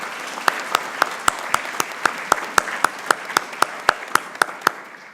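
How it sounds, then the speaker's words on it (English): A single person claps at an awards ceremony, delivering sharp, evenly spaced claps at a steady rhythm, close and distinct over a quiet room. "Please give a round of applause for the efforts of all of these people."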